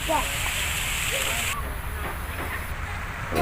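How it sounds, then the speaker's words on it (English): Motor-driven water spray at a martyrs' cemetery in Kokrajhar, Assam, a steady hissing patter like rain that stays close and even throughout, with a voice faintly audible underneath. "The water which is sprayed with the help of the motor is adding more beauty to the place."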